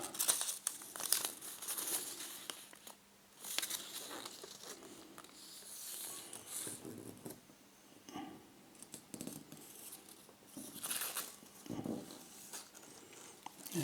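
A paper pattern sheet being folded in half for drafting casual workout shorts gives soft, close crinkling and rustling with light taps and brushing, quiet and uneven throughout with no talking.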